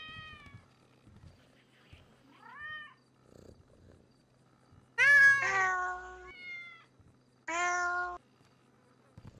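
Several cats in the video game GTA 5 let out loud, drawn-out meows at intervals, some high and wavering, with quieter mews and faint talk between them.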